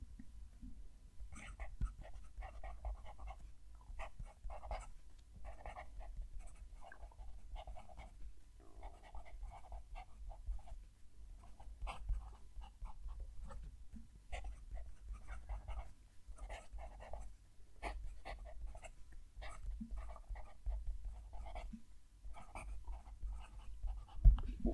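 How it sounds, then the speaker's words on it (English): A Platypus Model 10 fountain pen with a slightly stiff nib writes a sentence on paper, giving soft, close scratchy strokes and faint taps in an irregular rhythm, alone and quiet. "Let's move the mic down to the page and write the sentence."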